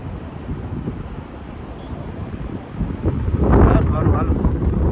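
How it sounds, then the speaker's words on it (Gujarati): Strong wind roars and buffets the microphone continuously, growing louder and rougher toward the end. "ખતરનાક પવન હાલે"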